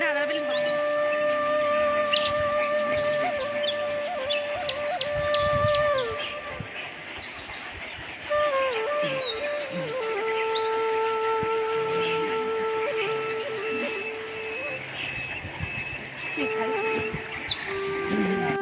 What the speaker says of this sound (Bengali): আওয়াজ শোনাও যাবো পাখিগুলো এখন ডাকছে